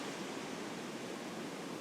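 White water rushes in a steady, soft hiss from some distance at a fishing spot, faint and even with no other sounds over it.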